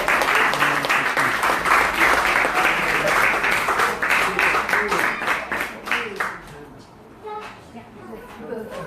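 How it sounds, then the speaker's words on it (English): Loud, sustained audience applause from a gathered crowd at a Sunday talk at ISKCON Newcastle, dense clapping that thins and fades toward the end. "Give them a round of applause."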